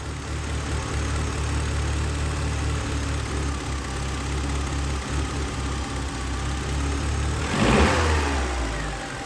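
A Volkswagen Passat B3 engine runs steadily close by after a misfire fault, a constant low mechanical drone, with a brief louder whoosh near the end.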